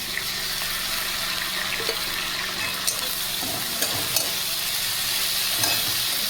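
Ginger garlic paste and onions sizzle in oil for a chicken curry, a steady close frying hiss with a few soft stirring scrapes spaced through it and no speech.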